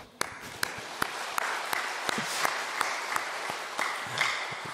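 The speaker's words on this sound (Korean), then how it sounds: "우리 여성분들을 위해서 우리 한번 박수합시다" Sparse, distinct hand claps from a small congregation at a dawn prayer service in a church, individual sharp claps spaced irregularly over a soft background of scattered clapping.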